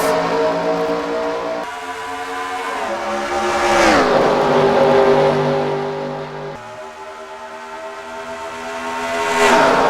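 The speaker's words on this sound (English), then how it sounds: "The All-Star race is underway at Indy" Race cars in a video game roar away together at the start of an All-Star race at Indy, engines loud and close, revving and shifting in overlapping layers with pitch rising and falling.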